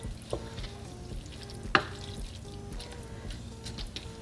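Orzo simmers in a pan on medium heat, giving a steady low bubbling hiss with faint drips, broken once by a brief sharp clink midway. No one speaks.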